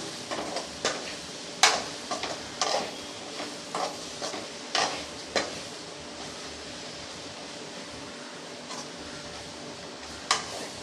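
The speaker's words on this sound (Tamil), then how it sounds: "இப்போ இதை நல்லா வதக்கி விட்டுறலாம்" Spices for a dry fish curry being sautéed in a pan, sharp spoon scrapes and taps clustered in the first half and then thinning out over a faint continuous sizzle, without speech.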